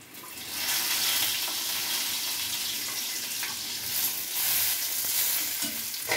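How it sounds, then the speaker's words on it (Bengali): Bay leaf, dry chilli, cardamom, cinnamon and cumin hit hot oil left from frying fish, setting off a loud, continuous sizzle and crackle close up, with faint stirring beneath. "এই তেলের মধ্যেই তেজপাতা, শুকনো লঙ্কা, এলাচ, দারচিনি আর জিরা ফোড়ন দিয়ে নিতে হবে।"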